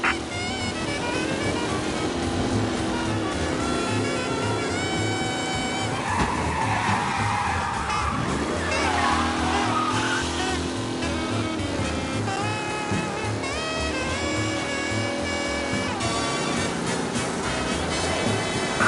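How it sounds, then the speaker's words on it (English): A race car speeding through city streets in a PS4 game, engine roaring steadily with long tire squeals and skids under a dense game soundtrack, loud and continuous throughout. "Officers reporting a race car driving at speed through the city."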